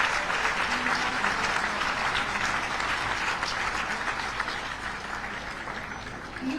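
A large audience applauds the winners of the first Arun Jaitley Memorial Debate, steady, dense clapping that holds strong and then tapers slightly toward the end.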